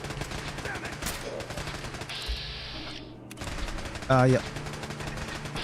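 Automated turrets firing guns in Fallout 4, rapid gunfire bursts crackling through a dense game soundscape, with a brief voice interjection partway through.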